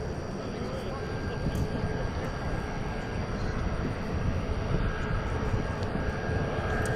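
A Boeing 747 at a busy airport produces a steady, distant jet roar with broad rumbling noise that holds throughout, with no clear voices over it.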